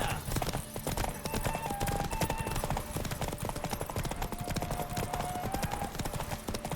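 Horse hooves pounding in a steady, fast gallop in The Witcher 3 video game, loud and continuous, with faint game voices talking underneath.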